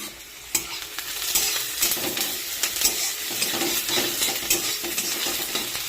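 Onion sizzles steadily in a hot pan while chicken curry is cooked at home, with repeated scraping and clinking of a utensil stirring through it, close and continuous with no talking.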